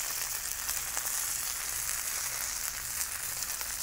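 Tuna steaks searing in olive or avocado oil on a griddle, giving a steady, close sizzle and crackle with no gaps and no talk throughout.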